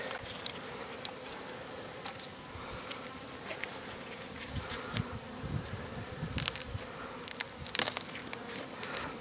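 Honeybees buzzing up close in a hive opened for the first time after winter, a continuous low hum with scattered clicks and rustles as the hive is handled.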